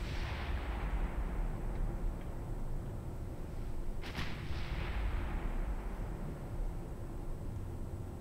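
A warship's main guns fire once in the naval video game Ultimate Admiral Dreadnoughts, a single muffled distant boom under a constant low roar of wind and engine noise.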